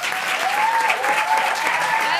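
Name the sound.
audience applause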